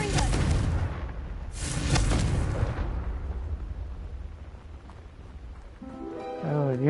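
A Confringo blasting spell in Hogwarts Legacy goes off as two heavy booming explosive bursts close together, rumbling away into a decaying fiery hiss, with a voice briefly heard near the end.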